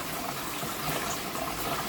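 Water from a garden hose trickles into a fish pool with a faint, steady, even wash of running water and no voices.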